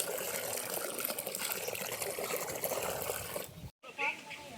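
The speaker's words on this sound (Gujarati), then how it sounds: "એમાં હું થોડુંક પાણી નાખી દઉં." Water is poured into a container set out for birds to drink, a soft trickling and splashing fill under a person talking, ending with a short pause and a brief final splash.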